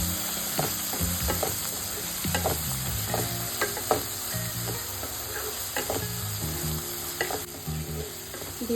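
Ridge gourd curry seasoned with salt and chilli powder being stirred in a hot pan: repeated scraping spoon strokes over a steady low sizzle, close and continuous, with no talking.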